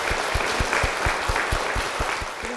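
A church audience gives steady, dense applause with a regular underlying thump, loud and continuous throughout the short stretch.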